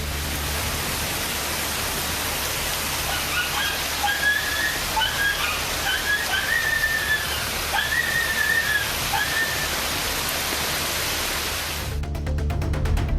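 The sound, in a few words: heavy rain pouring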